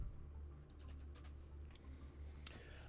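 Faint clicking of keys typed on a computer keyboard, a few quick irregular taps over a low steady hum.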